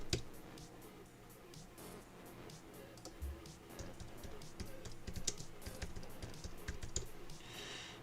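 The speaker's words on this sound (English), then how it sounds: "If I can type." Quick, irregular clicks of typing on a computer keyboard, close and fairly quiet, with bursts of keystrokes continuing over a low background hum.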